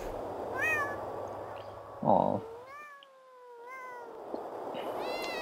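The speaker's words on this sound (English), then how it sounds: "Oh my god, that is a lot of kitties." Cats meow repeatedly in the video game Thirty Flights of Loving, several rising and falling calls overlapping close by, with a brief hiss-like burst midway and a short spoken reaction.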